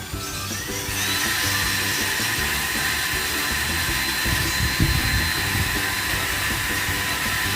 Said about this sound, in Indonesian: Kita lubangi dengan bor ya